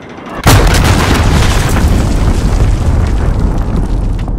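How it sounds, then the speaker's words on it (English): A loud, sudden boom from an enemy cruise missile strike in a search-and-destroy video game, hitting hard near the start and leaving a long, dense rumble of debris and fire that fills the rest of the moment. "Enemy cruise missile."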